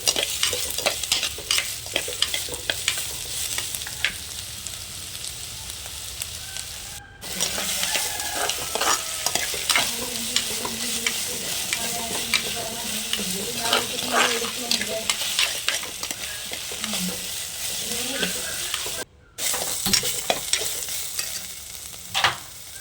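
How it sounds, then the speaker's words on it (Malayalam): Brinjal, mango and chopped tomato sizzle steadily in a pan while being stirred, with a spoon scraping and clacking through the frying; two brief cuts break the continuous hiss. "നമ്മൾ അരിഞ്ഞ് വെച്ചിരിക്കുന്ന തക്കാളിയും കൂടി ചേർത്ത് എന്ത് ചെയ്യാം, നന്നായിട്ട് ഇളക്കി വയ്ക്കും"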